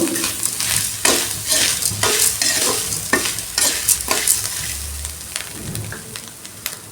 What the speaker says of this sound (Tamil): தேங்காய் பூ போட்டு கொஞ்சம் லேசாக வதக்கினா போதும்